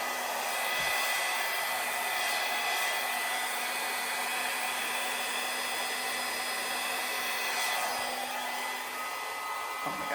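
A hair dryer blows a steady, loud stream of air across a wet Dutch-style acrylic paint pour, a continuous whooshing roar with a faint motor hum that holds for the whole stretch without pause.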